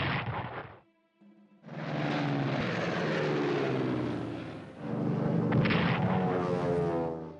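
Engine drone of bomber aircraft and gunfire sounds in a WWI strategy game, a loud sustained roar with heavy low rumble, briefly cut near the start, then swelling again toward the end.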